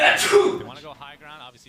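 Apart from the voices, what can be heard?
sneeze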